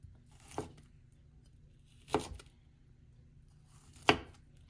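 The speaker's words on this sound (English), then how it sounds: "So I'm actually going to cut them into 1/8 inch or to 1/4 inch chunks." A knife cuts pineapple into small 1/8 to 1/4 inch chunks on a board, making three separate distinct chops spaced about two seconds apart, each a sharp clear knock over quiet room tone.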